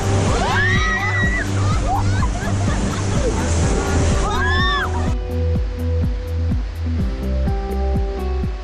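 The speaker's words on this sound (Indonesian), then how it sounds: "saat menghantam derasnya arus sungai dengan tetap menjaga keseimbangan" A rafting boat pounds through rushing river rapids, loud continuous churning and sloshing water for the whole stretch, with a voice talking over it and a shout or two near the start.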